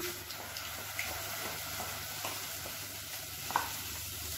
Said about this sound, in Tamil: நம்ம அரைச்சி வச்சுருக்க சட்னியை இதில் சேர்த்துடலாம்.